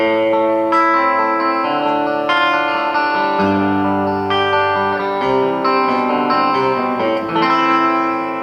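A Taylor guitar through its bridge pickup with overdrive and distortion, loud ringing chords and riffs with effects-laden sustain and some echo, played alone.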